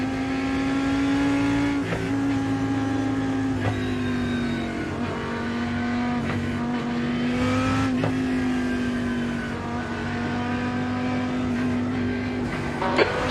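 A race car engine on an iRacing IMSA Road America circuit holds a loud, steady high-revving drone, with brief dips at several gear shifts as it accelerates hard from the green flag, heard from inside the car.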